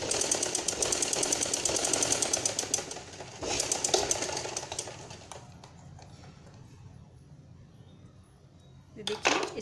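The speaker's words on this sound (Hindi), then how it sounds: "और फिर हम इसको ऐसे फोल्ड करके यहाँ तिरछी इसमें सिलाई लगा देंगे।" A sewing machine stitches a sleeve with a rapid, close, rattling run that fades to quieter work before a brief burst near the end.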